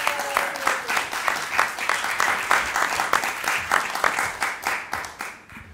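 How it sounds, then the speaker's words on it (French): Comedy club audience at the Catskills applauding a comedian, a lively near round of clapping with distinct sharp hand claps standing out from the crowd, fading slightly at the close. "Mesdames et messieurs, je demande de l'applaudir très fort."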